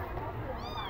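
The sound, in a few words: small rescued kitten meowing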